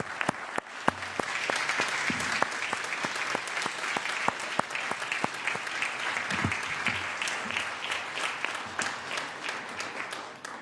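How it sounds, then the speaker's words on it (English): Sustained applause fills a state senate floor session, steady dense clapping from a crowd for about ten seconds with a few sharper individual claps standing out. "Please clap."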